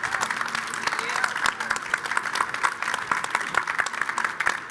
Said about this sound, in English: let's give a round of applause to our guests